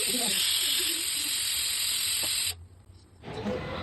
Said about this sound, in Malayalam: അതിൻ്റെ ഇടയിൽ അതാ കുക്കർ വിസിലടിച്ചു.